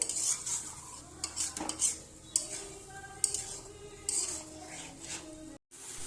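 Spice masala being stir-fried in a pan for a potato, pointed gourd and prawn curry, with repeated metal spatula scrapes and clinks over a soft sizzle, close and uneven in rhythm, briefly cutting out near the end.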